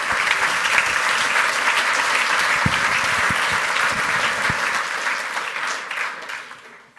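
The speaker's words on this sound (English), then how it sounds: "give these guys a round of applause" Applause from a hacker conference audience, sustained and full-bodied throughout with a few scattered louder claps, then tapering away over the final seconds.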